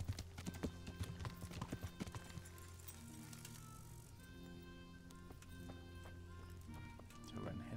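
Quick, rhythmic hoofbeats of a horse in the medieval role-playing game Kingdom Come: Deliverance, a close clip-clop trot that fades in the middle and returns, mixed with light game background sounds.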